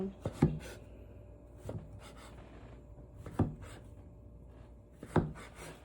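Knife chopping through rolled rice noodle dough on a cutting board, four sharp distinct thuds spaced about a second or more apart, close and fairly quiet with soft rubbing between.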